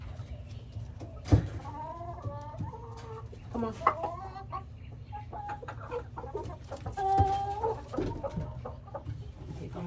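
Backyard coop chickens cluck and squawk in bursts of rapid, close calls, with brief speech partway through.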